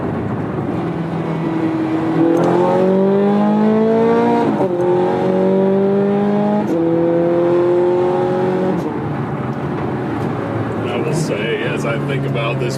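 Ferrari sports car driving, engine note rising and falling through several gear changes in a steady sustained drone, heard from inside the cabin with speech over it.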